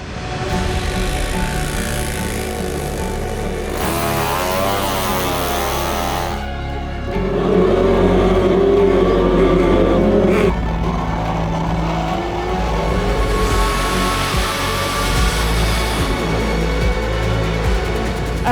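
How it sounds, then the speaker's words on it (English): Race car engines revving loudly together at the start of a race, a dense, continuous mechanical roar that swells and shifts in pitch, with no voices. "the engines are fired, tires are hot"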